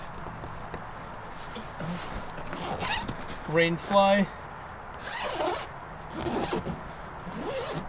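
A zipper on a rooftop tent's side window is pulled in a few short runs, close by, with someone talking over and between the pulls.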